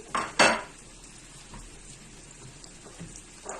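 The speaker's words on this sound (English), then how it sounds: "I will mix my salt and pepper while waiting" Salt and pepper being mixed in a bowl for buttered prawns and fried fish: two quick metallic clinks of a utensil against the bowl up close, then quiet scraping with a faint clink near the end.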